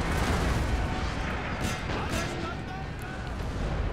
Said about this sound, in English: Our artillery here is actually in a pretty great position to fire across at their lines